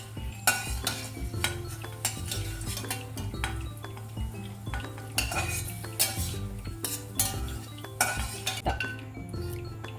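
Raisins stir in a pan for pumpkin kheer, a spoon clinking and scraping against the metal in a busy, steady rhythm up close, with only a faint sizzle beneath.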